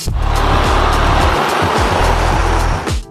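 A Volvo L350F wheel loader's 530-horsepower engine roars loudly and continuously at close range in a quarry as it lifts stone, its low rumble shifting in pitch as it works, with gritty broadband noise throughout.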